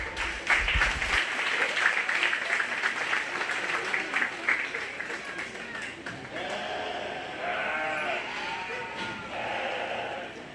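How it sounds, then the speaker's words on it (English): A crowd at a 4-H/FFA sheep and little lambs show claps and cheers steadily throughout, with dense, moderately distant applause. Sheep bleat and voices call out in the background. "crowd, I want you to be loud and proud for them"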